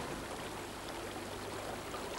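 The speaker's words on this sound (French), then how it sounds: "on est donc revenu maintenant au bord de la rivière principale" The main river, the Mas-Méjean, flows with a steady, soft rushing burble of moving water, continuous and fairly distant, with no voices.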